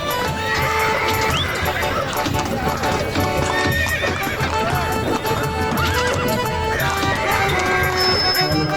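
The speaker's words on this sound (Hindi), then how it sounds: "हमें एक तांगा चलता हुआ दिखता है, जिसमें छोटू शर्मा सो रहा है।" A horse pulls a tanga cart with steady clip-clopping hooves and an occasional neigh, set under a busy mix of voices and music in a cartoon scene.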